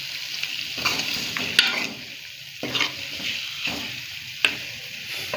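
Mutton is stirred in a hot, sizzling frying pan, with scraping strokes and occasional sharp clinks of a utensil against the pan.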